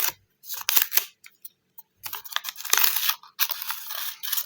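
Crisp, close crinkling and ripping of a thin perforated paper packet in several short bursts, with brief pauses between tugs.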